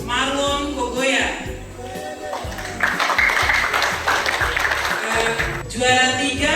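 Audience clapping for a runner-up at a Toli FC logo design prize ceremony, steady continuous applause with a voice speaking over parts of it.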